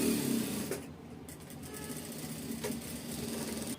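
A sewing machine stitches tucks on a blouse, a close, continuous mechanical rattle that starts loud, dips briefly, then carries on at a steady pace.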